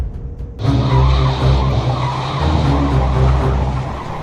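A car swings through a sharp turn with a loud, close tire squeal and skid that starts abruptly and holds steady for several seconds over the engine.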